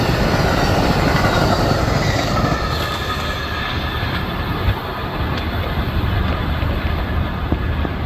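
A train passes near Lakeland, Florida, its steady wheel-on-rail rumble and clatter loud and close throughout, with faint squeals of wheels riding over the tracks.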